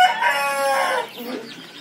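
Indonesian native village chickens on a farm cluck and crow in a short, close burst, a loud drawn-out call fading into softer clucking.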